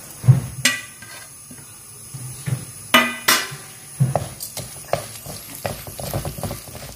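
Chana dal and urad dal roasting in hot oil in a pan, with a soft sizzle under sharp metallic clinks and scrapes of a spoon against the pan, sparse and irregular, close and fairly quiet.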